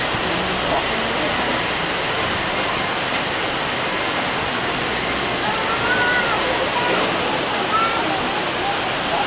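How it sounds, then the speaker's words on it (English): Water rushes into an Erie Canal lock chamber at Herkimer, New York, a loud, dense, unbroken roar like a waterfall that holds steady throughout. "Here comes the water."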